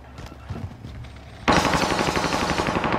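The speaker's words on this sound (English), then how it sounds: "We're taking fire." Rapid automatic rifle fire from an AK47-class loadout in a military shooter video game bursts in loud and sustained after a quieter opening, continuing steadily to the end.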